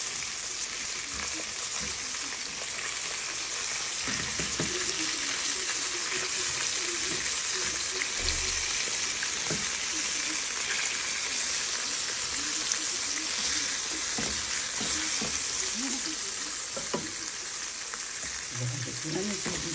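Sardines fry in a large pan for marinated fish with seafood rice, a steady loud sizzle with crackling pops and faint scrapes throughout, a few quiet words spoken near the end.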